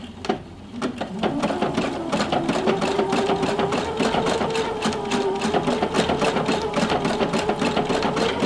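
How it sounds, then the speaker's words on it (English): A sewing machine running steadily while stitching pre-installed candlewicking stitches on fabric, a loud, close, continuous mechanical whir with a fast rhythmic needle beat and no talking. "pre-installed stitches for candle wicking that came with my machine"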